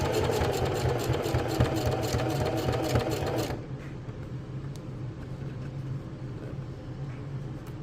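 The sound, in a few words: sewing machine stitching fabric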